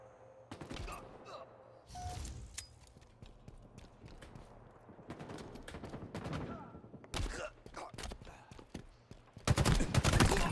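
Bursts of gunfire in Halo Infinite multiplayer come as irregular volleys of sharp, rapid shots, some loud and close, others fainter, separated by quieter gaps.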